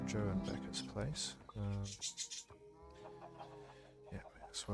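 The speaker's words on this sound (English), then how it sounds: "Loads of chickens, loads of farm animals." Chickens cluck in short, scattered bursts on a farm in the Minecraft video game, fairly close, with a person talking over and between the clucks.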